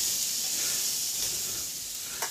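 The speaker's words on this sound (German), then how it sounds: "Jetzt kann es hier noch in der Resthitze der Pfanne ein bisschen bräunen." Meat sizzles steadily in a hot frying pan on residual heat while cooking moussaka, a constant close hiss with a brief clink near the end.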